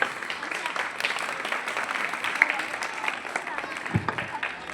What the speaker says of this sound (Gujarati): જોરદાર તાળીઓના ગડગડાટથી વધાવશું